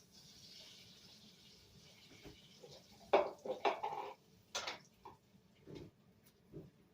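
Butter being dumped out of a cooking pot while making split pea soup: a faint background hiss, then a cluster of close metallic clanks and scrapes of the pot, followed by a few lighter knocks, no talk.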